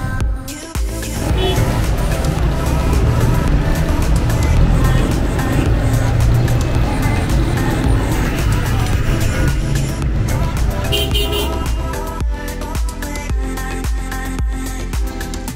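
Heavy street traffic in Mansehra, a mountain town in northern Pakistan, fills the clip with a loud, dense roar of engines and passing vehicles that rises after the first second and continues steadily with some horn-like accents.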